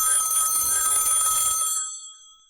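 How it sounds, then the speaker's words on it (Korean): A telephone bell rings in one sustained, bright metallic burst that cuts off abruptly, leaving a brief fading ring in an otherwise quiet scene. "전화벨이 울렸다."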